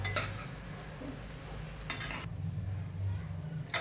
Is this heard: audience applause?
no